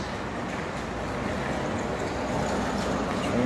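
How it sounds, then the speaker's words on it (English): Airport train pulling into a station at O'Hare, a steady loud rumbling roar of wheels and rail noise that swells slightly toward the end as it arrives, heard close without any talking. "Train is arriving."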